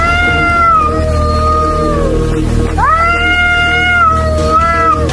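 A civet cat and a house cat fight with loud, close, drawn-out yowls that rise and fall in pitch, with a short pause in the middle before the wailing swells again.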